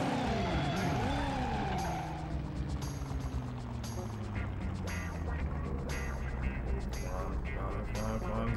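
Tires squeal and a car skids in the PS1 driving game Driver, a sweeping screech that bends in pitch early on, followed by a rumbling engine and scattered clatters.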